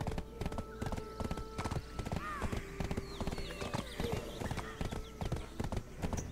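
A donkey's hooves clip-clop in the Black Desert Online game, a brisk, even rhythm of close hoofbeats continuing throughout, with a brief whinny-like call partway through.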